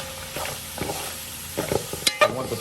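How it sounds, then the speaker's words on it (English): Veggie pelau being stirred in a pot, a spoon scraping and pushing the peas and vegetables in short irregular strokes over a soft background sizzle, with a couple of sharper metallic clinks near the end. "Give this a good stir"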